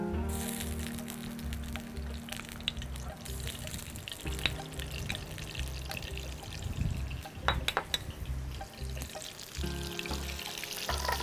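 Ghee, about six spoonfuls, poured into a pan to fry pomfret fish, with a steady liquid pour, soft splashing and a faint sizzle in a home kitchen, no talking.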